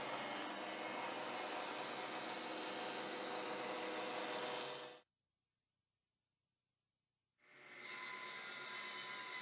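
A table saw at a men's shed workshop cuts a groove along the length of a wooden workpiece guided by the rip fence. Loud, steady whine and roar for about five seconds, a short silence, then the cut resumes at full volume.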